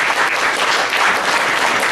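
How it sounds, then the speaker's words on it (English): An audience at a talk breaks into loud, sustained applause, a dense, even roar of many hands clapping close by with no voices over it. "How about a round of applause to Sarah for stepping up to be our speaker"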